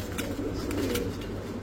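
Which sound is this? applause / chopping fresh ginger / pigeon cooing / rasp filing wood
pigeon cooing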